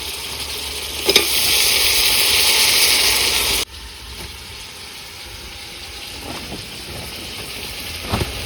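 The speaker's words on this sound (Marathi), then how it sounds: "आता हे सगळं चिकन टाकून झालं, आता त्याला चांगलं असं हलवून घ्यायचं." Chicken pieces sizzle loudly in a hot pot while being stirred, a bright hissing fry that abruptly drops to a quieter simmer, with occasional scraping knocks of the spoon.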